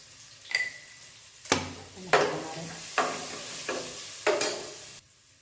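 A spoon stirs turmeric, coriander, chili powder and garam masala in hot oil in a pan for palak dal bhaji, giving about six distinct scraping strokes over a faint sizzle, close and fairly quiet.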